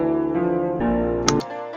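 FL Studio melody with a half-speed filter preset, sounding as slowed, low-pitched sustained synth tones that shift in steps, with a short bright burst near the end.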